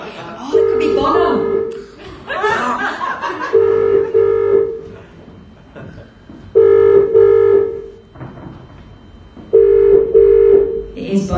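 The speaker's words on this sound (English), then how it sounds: "If we hear a phone ringing here." Telephone ringing tone heard through a phone during a live stage show in Belfast, four long repeating ring bursts separated by pauses, with people talking and an audience reacting over and between the rings.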